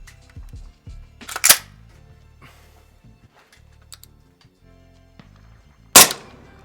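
A full-size suppressed AR9 carbine with a Maximum Defense roller-delayed system fires two sharp, muffled reports several seconds apart, with small mechanical clicks and handling noises in between.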